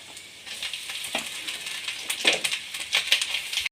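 Grated coconut sizzles in a pan with dried chillies, cumin and curry leaves, a steady close crackle lifted by a few louder bursts as the mix is stirred.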